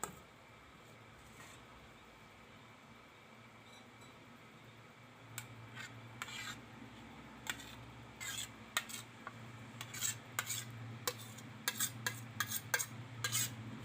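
Flour is tipped into a metal bowl and stirred into dough for masala khajali, with scraping and clinking of a spoon against the bowl growing busier and more frequent over a low background hum.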